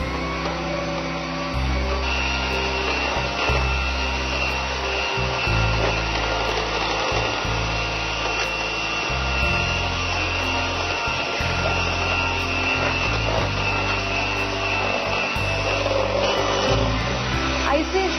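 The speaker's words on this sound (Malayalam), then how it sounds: "കുറേശ്ശെ കുറേശ്ശെ ഇട്ടിട്ട് വീണ്ടും ബീറ്റ് ചെയ്യാം" Electric mixer beating eggs with icing sugar for a white chocolate biscuit batter, a steady loud motor whir running throughout, with its pitch shifting slightly as the sugar is added bit by bit.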